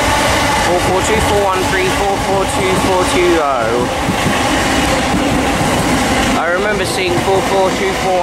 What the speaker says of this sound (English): there are the Gatwick Expresses after 377